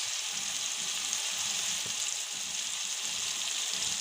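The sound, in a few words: turmeric and chili powder frying for coral fish curry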